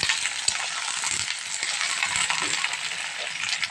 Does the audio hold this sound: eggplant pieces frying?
yes